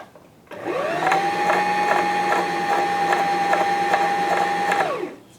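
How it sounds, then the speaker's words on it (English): A Husqvarna H Series E10 sewing machine winds a bobbin, a steady, close whirring motor whine that spins up, holds evenly for about four seconds, then winds down. "the bobbin is winding"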